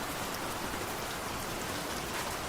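Heavy rain pours down during a storm in Balasore, a dense, even hiss of drops pounding surfaces, constant and close with no voices.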